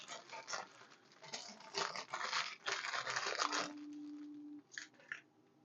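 Plastic bag of small parts from a 1:72 scale SD KFZ 7 half-track model kit being handled, with close crinkling and rustling in bursts that fade to quieter, sparse rustles.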